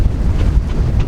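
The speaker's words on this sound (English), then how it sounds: "Still windy." Wind gusting around a yacht riding at anchor, a loud low rumbling buffet of wind against the microphone with no voices.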